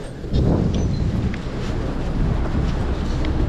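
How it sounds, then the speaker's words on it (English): Wind gusts outdoors against a microphone and give a loud, rough rumbling buffet that rises just after the start and persists for a few seconds, with no talking. "Y'all hear that wind, don't y'all?"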